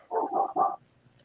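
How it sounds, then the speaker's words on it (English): A dog barks three times in quick succession, fairly close and clear, then quiet. "There's Buster barking."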